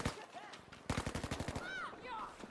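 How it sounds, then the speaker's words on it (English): Type 97 machine gun in Battlefield V firing in bursts, a slow, evenly spaced string of sharp shots with a few scattered earlier reports and faint whistling tones between. "that rate of fire is nice and slow, which makes the gun quite controllable to fire"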